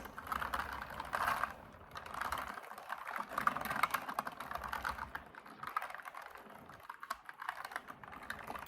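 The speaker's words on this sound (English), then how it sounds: "I will be open ears to listen while I type out your responses." Clicky computer keyboard typed in steady, close bursts of crisp keystrokes, with brief pauses between runs, soft and intimate in a quiet room.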